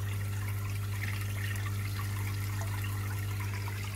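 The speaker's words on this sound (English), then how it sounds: "I turn the air up a little bit more on each air stone" Air stones bubble air into an outdoor water tank, a constant dense fizzing and gurgling over a steady low pump hum, unbroken and close.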